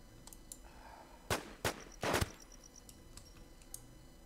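Gunfire in The War Z video game comes as a few sharp, fairly faint shots, separate cracks and short bursts spaced over a few seconds against a quiet background.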